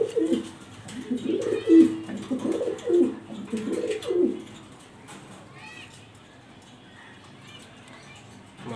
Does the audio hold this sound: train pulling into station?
no